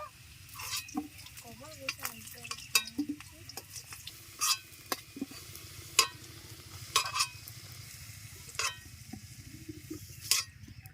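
Potatoes sizzling softly in frying oil as they are lifted out, with repeated light taps and scrapes of a utensil against the pan, all fairly quiet and close, and a brief faint voice early on.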